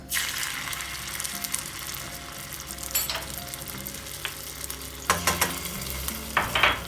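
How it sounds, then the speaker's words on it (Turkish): Tomato paste and a few spoonfuls of oil sizzle steadily in a frying pan, with occasional sharper clinks and stirring scrapes of a utensil against the pan, close and continuous throughout. "biraz kavuruyoruz."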